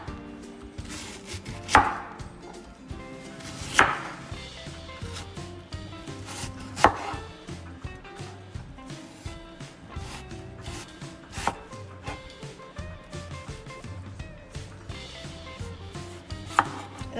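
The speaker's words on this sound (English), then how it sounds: "So once you done wash it, you cut it like that" Knife chopping an onion on a cutting board, steady close taps in a quick even rhythm with a few sharper louder strikes, no voices.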